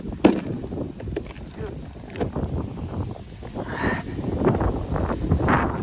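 Steady wind buffets the microphone with rumbling gusts while fishing for crucian carp, rising and falling continuously outdoors, with water and faint voices underneath.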